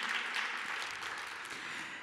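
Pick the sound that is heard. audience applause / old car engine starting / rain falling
audience applause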